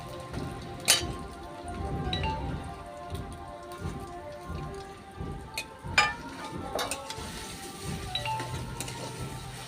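Soybean paste hits hot oil and fries with a steady crackling sizzle, close and continuous, with a few sharper pops and spatters along the way and no talking.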